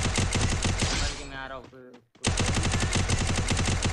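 Rapid automatic gunfire from the Free Fire battle royale video game rattles loud and dense, breaks off in a short silence midway, then resumes just as heavily.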